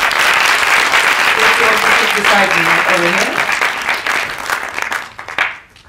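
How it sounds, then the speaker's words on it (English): An audience in a cinema claps for a panel at Bio Capitol, a dense roar of applause that holds strongly and then thins out toward the end, with a voice speaking over the clapping. "Let's start with a applause for everyone that came back."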